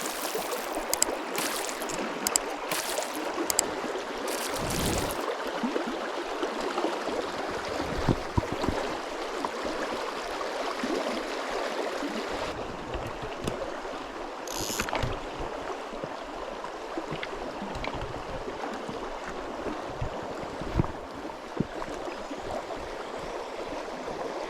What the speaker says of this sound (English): And the noisy water should give me a bit of cover.